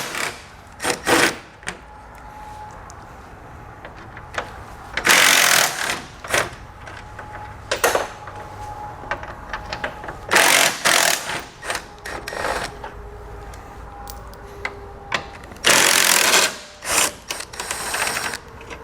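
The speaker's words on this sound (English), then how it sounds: "We'll use a 10mm socket for these." A 10mm socket wrench removes the grille bolts on a 2018 GMC Sierra 1500, giving repeated bursts of quick ratcheting clicks, close and moderately loud, separated by quieter handling noises.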